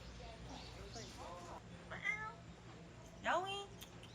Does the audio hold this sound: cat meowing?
yes